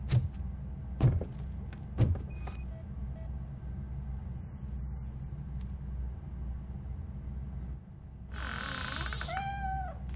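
Cat in the video game Robocop Rogue City giving a short, faint meow near the end, after a few sharp thumps and a quiet stretch of low ambient hum.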